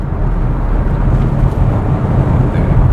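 A Volvo C40 Recharge electric SUV pulls away hard with the accelerator floored, producing a loud, steady low rumble of road and cabin noise without engine pulses.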